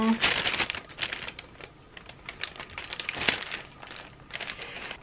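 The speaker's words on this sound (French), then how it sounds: "en bonus vous avez de l'ASMR de sac plastique" Plastic shopping bag from pre-Christmas sale shopping crinkling and rustling in bursts, close and fairly loud, with a brief voice at the start.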